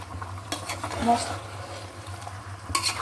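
Beef coated in spices stirring and frying in a pot of browned fried onions, a low steady sizzle with scraping stir strokes near the start and end, and a faint voice in the background.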